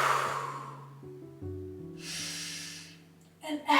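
Deep breathing during a gentle morning yoga flow, with a slow breath in and a long, airy exhale close to the microphone, set against soft background music.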